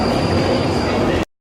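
A London Underground train moves along the platform with a loud, close rush of wheels and rattling rail noise that stops abruptly after just over a second.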